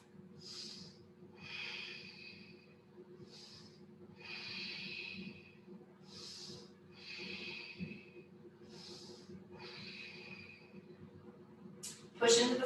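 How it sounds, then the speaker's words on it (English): Slow, deep breaths during a lower-back yoga stretch, about eight airy inhale and exhale cycles in a steady rhythm, close and soft over a faint hum, ending with a brief sharp noise. "Take a deep breath."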